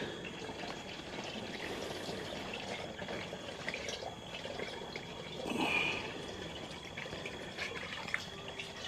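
Engine fluid trickles and drips steadily into a 7-quart drain pan, a soft, continuous liquid patter heard close but quiet, swelling briefly midway.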